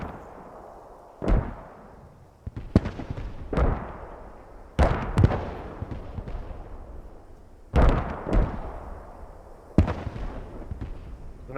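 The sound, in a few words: naval bombardment shells exploding in video game Post Scriptum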